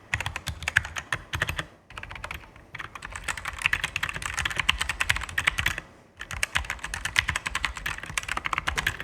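Fast typing on a Red Dragon K530 Draconic 60% compact wireless mechanical keyboard with hot-swappable brown switches, dense clacking keystrokes close up in bursts, with a couple of brief pauses.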